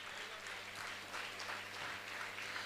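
Applause at a religious gathering in India as a guest from Mumbai is welcomed onto the stage, a dense steady wash of many clapping hands filling the whole stretch.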